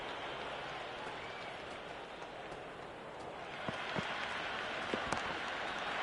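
Steady, broad crowd roar from a cricket stadium in Cricket 26 during an India versus Australia match, swelling slightly with a few sharp claps and knocks toward the end, continuous and fairly loud with no talk.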